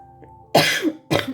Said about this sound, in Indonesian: Maaf ya kakak batuk.